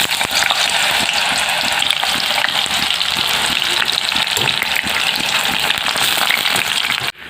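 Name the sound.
frying raw banana chips in mustard oil in a wok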